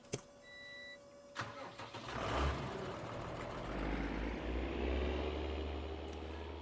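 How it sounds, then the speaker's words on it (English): Tractor engine in the Farming Simulator 19 video game on the Giants Island 2011 map while fertilizing fields: a sharp click, then the engine starting up into a steady rumbling, whiny drone that holds on at moderate level. "we're going to zoom out all the way from the whiny tractor"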